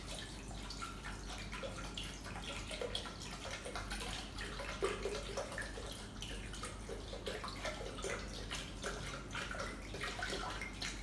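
Water streams steadily into a Thermomix bowl for lemonade, a continuous splashing gush close to the microphone lasting the whole stretch with no talk over it.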